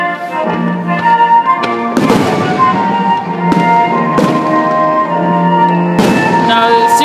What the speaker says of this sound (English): It's just fireworks.